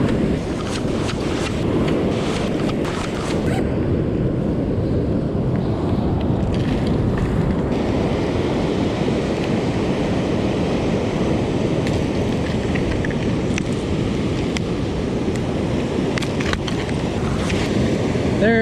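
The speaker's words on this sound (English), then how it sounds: "that wave that just touched my legs, took 14 seconds from it breaking, coming all the way to shore" Ocean surf breaking and washing up the shore where someone is fishing with a lure, a loud, steady roar of waves with constant wash and wind noise, close by and without pause.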